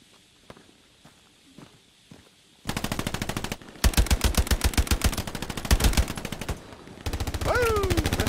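Gunfire in the World War II shooter Hell Let Loose, heard after a few quiet footsteps: loud, rapid bursts of machine-gun fire in several sustained strings, close and harsh, briefly broken by pauses.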